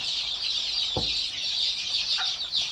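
Desi gavran chicks being brooded and fed rice, with a dense chorus of high peeping and cheeping running steadily throughout, close by, plus a brief low thump partway through.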